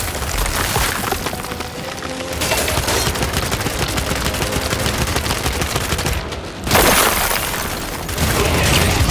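Sustained heavy gunfire in the shooter game Gears 5, dense rapid automatic bursts with sharp cracks running nearly continuously for several seconds, with a brief lull before the shooting resumes loudly.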